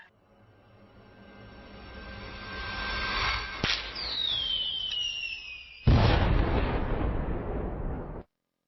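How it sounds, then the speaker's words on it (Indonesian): A rising whistle streaks upward, then a sharp crack and a loud booming burst that crackles and rumbles for a couple of seconds before cutting off. "Kembang api yang indah sekali."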